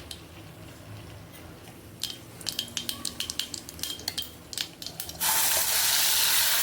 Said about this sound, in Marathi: चला आता मसाला भाजून घेऊया